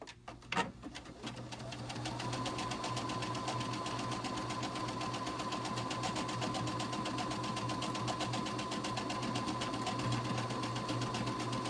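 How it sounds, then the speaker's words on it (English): A sewing machine stitches out a buttonhole in one continuous, steady mechanical whir that starts after a brief knock and runs evenly at moderate loudness, close by and alone. "I'm stitching out my buttonhole"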